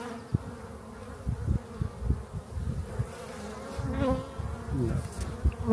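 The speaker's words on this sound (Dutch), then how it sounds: "Vol met bijen" Honeybees swarm over an open hive frame during a winter colony inspection, their dense buzzing drone rising and falling close by with a steady busy hum and scattered louder passes.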